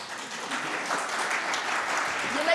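Audience applause at a conference, a steady wash of clapping from a crowd held at an even level for a couple of seconds with faint voices underneath.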